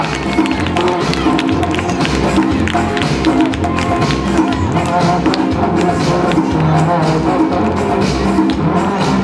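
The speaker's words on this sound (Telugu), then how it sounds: "అందరూ గట్టిగా క్లాప్స్ కొట్టాలి." An audience at a graduation ceremony claps hard, producing loud, dense, continuous applause that stays even for the whole stretch, with a faint murmur of voices mixed in.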